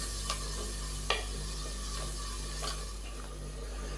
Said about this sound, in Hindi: अच्छे से मिक्स करेंगे और मसाले को भून लेंगे 4 से 5 मिनट के लिए